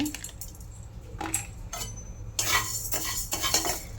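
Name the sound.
pan stirred while frying moong dal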